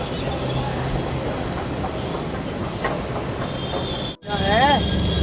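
A metro train rumbles and clatters steadily up close and loud, then briefly drops out before a thin whine rises near the end.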